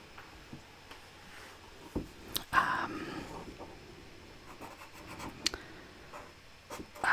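A Sharpie pen colours on cardboard in close, soft scratchy strokes and taps, irregular and quiet, with no talking.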